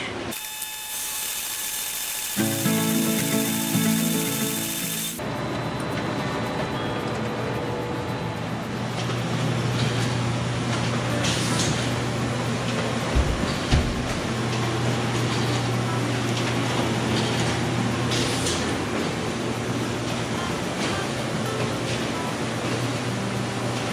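Digital printers run continuously in a print shop, churning out newsletters and books with a steady mechanical whir and rumble after a brief tonal startup.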